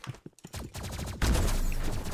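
Rapid bursts of gunfire from the shooter video game Rivals, with close, loud, dense shots growing into a sustained volley in the second half.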